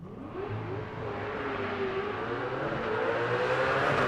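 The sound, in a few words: drag race car leaving the start line, small block engine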